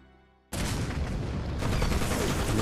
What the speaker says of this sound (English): the silence was broken by the crack of gunfire and the explosion of grenades